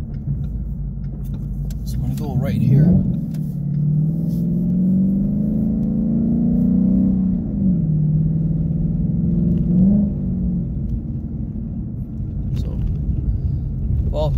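A muscle car on Bridgestone Blizzak WS80 winter tires accelerates along an icy road, its engine rumbling and rising in pitch in steady surges while the driver talks briefly over it.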